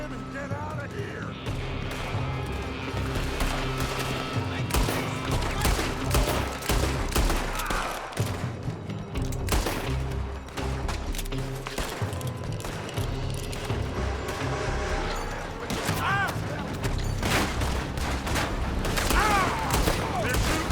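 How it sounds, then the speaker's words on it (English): Bursts of gunfire crackle loud and close in the Red Dead Redemption 2 video game, repeated shots and rapid volleys running throughout amid a dense, busy background. "They're shooting from that building!"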